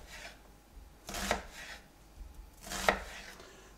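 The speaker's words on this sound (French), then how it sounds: "Je vais découper mon oignon" A knife chops through an onion on a board, making two crisp, close cutting knocks about a second and a half apart, with quiet pauses around them.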